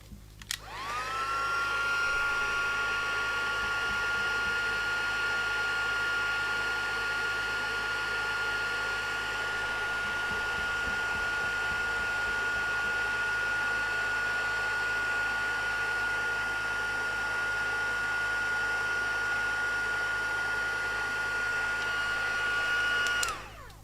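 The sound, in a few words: heat gun used for heat embossing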